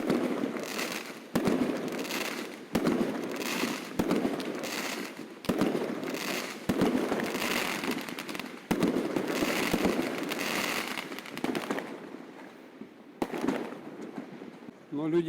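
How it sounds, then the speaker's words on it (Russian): New Year's night fireworks and salutes go off over a lake in Yakutsk, with repeated sharp bangs followed by crackling bursts, fairly distant, while a voice talks over them at times. "покупают себе вот эти вот фейерверки, салюты и лупасят ими"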